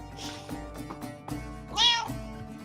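Foxy, a pet cat, gives a couple of short meows, the loudest and most drawn-out one near the end, close by over a faint room background with no talk.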